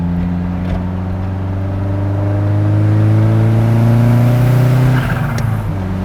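Engine of a slammed Alfa Romeo Spider fitted with switchable anti-lag, a steady loud rev held and rising slightly before dropping off near the end, close by with no talking.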